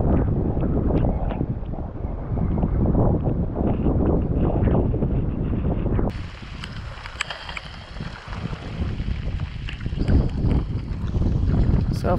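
Strong wind on a sailboat in Quahog Bay buffeting the microphone with a constant low rumble and roar, continuous gusty noise outdoors, no voices.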